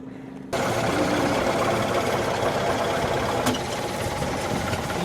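A boat engine runs steadily during a river trip to view a temple standing in the water at Sangkha Buri, a loud continuous close drone with a mechanical rattle that starts abruptly and holds throughout.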